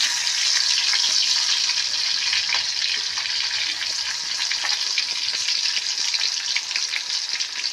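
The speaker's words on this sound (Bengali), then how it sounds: "কড়াইতেই পেঁয়াজ দিয়ে দিচ্ছি, তেল গরম হয়ে গেছে" Onions hiss and crackle in hot oil in a kadai, a loud, dense, continuous sizzle that holds steady from start to finish with no voices.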